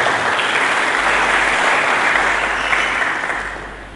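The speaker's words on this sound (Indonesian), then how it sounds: "Berikan tepuk tangan dulu yang meriah." Lively applause from a church congregation, a full dense roar of clapping hands that stays strong for most of the stretch, then thins and fades toward the end.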